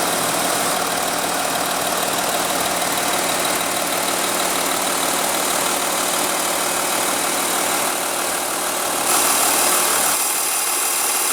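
A 2016 Volkswagen Touareg's 3.0 L V6 TDI diesel engine idles steadily and close by, a continuous broadband rumble with a faint knock-like texture, with no voices.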